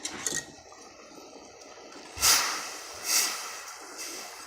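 Quick whisking of a salt or sugar solution in a small container for growing crystals, heard as faint clinks and swishes with two brighter scraping bursts near the end, close and quiet with no talk.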